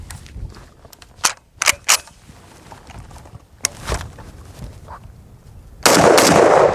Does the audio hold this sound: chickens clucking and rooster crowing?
no